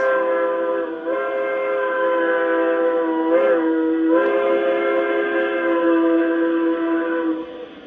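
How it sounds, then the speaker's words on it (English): A Zimo sound decoder in an LGB Mikado model locomotive sounds a whistle steadily for several seconds, a bright multi-tone chord with a few short breaks and swells, loud and close, ending abruptly. "You have a couple different whistles."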